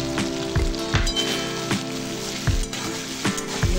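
Spices sizzle in a pan while a utensil knocks and scrapes at a steady rhythm, with a faint tone running in the background.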